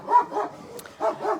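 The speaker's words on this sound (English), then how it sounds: "my dog is barking" A dog gives four short, fairly close barks in two quick pairs separated by a brief pause, with no talking over them.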